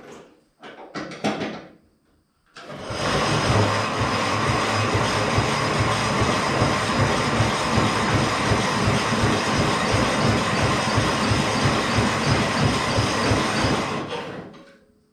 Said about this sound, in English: Taking all my juice trying to turn that auger.